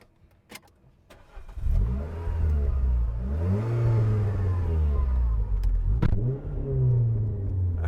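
A 2010 Renault Clio 2.0 VVT Renaultsport engine cranks via start button and fires up, then settles into a loud rumbling idle with a couple of throttle blips, close by.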